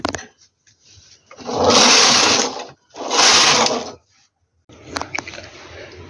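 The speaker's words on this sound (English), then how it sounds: "So pack all the needle back together and knit 2 rows" Domestic knitting machine carriage pushed across twice to knit two rows of a lace pattern, two loud whooshing, rattling passes each about a second long with a short gap between, then quieter clicks of needles being handled.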